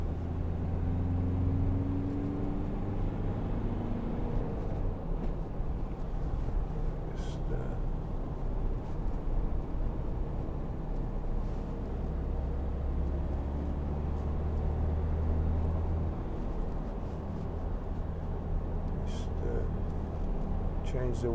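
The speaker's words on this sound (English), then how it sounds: "tiny bit of noise off the all-terrain tyres" Low steady road rumble from all-terrain tyres on a 2012 Volkswagen Amarok 2.0 BiTDI pickup, heard from inside the cab, continuous and fairly quiet under a voice talking throughout.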